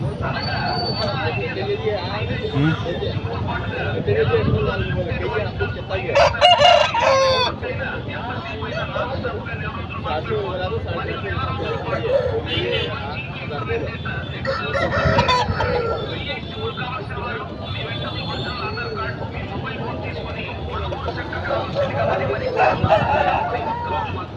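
A Kakidega rooster, about 22 in tall and 2.5 to 3 kg, sits amid a busy weekly livestock market in Rayachoti, Kadapa district, where crowing and clucking fowl mix into steady crowd noise and overlapping talk throughout.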